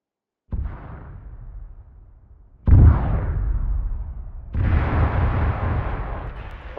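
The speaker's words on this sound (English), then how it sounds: "What's causing those explosions?" Heavy explosions in the military video game ARMA, three deep booming blasts, each with a long rumbling decay, the later two loud and close, with no talk over them.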